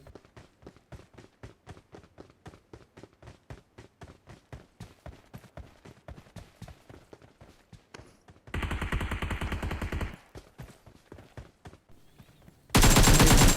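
AKM fire in PUBG Mobile: rapid bursts of sharp gunshots crack out in a fast, uneven rhythm, followed by two longer, louder stretches of dense noise, with no talking.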